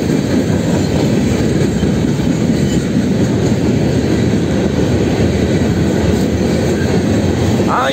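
Freight train rolling past close by, a steady loud rumble of rail cars and wheels on track with continuous clickety-clack and faint wheel squeal, no voices.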